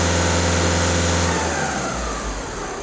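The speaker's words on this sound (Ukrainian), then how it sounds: "трошки погазую, щоб автомобіль прогрівся і клапан ЄГР був закритий" Skoda Octavia 1.6 TDI diesel engine revved to warm up, a loud close steady drone that rises in pitch as the throttle opens partway through, with no talk.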